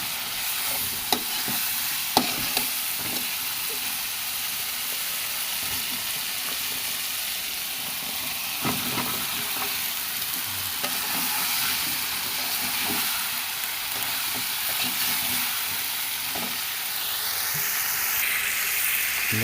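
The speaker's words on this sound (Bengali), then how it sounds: "আমরা এখন একটু কষা দিয়ে দিচ্ছি।" Tilapia with cauliflower and flat beans is sautéed in a pan, giving a steady, close hissing sizzle with occasional stirring scrapes and clinks and no voices.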